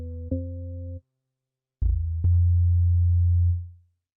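Synth tones triggered from MPC pads over MIDI: a short bright note with harmonics, a pause, then a sustained low tone that fades out, clean and isolated.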